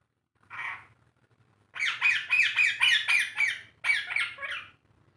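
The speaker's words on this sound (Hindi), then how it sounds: "मिठू ये कहाँ गुस्सा आ रहा है मिठू?" A green ringneck parrot squawks harshly and angrily up close, first with one short call, then a rapid burst of about seven loud squawks, a pause, and two more.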